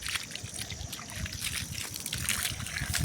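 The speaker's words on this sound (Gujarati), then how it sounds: "પાણી આવે છે।" Water gushes steadily from a motor-driven pump at a temple, a continuous rushing trickle and splash that stays fairly constant and close throughout.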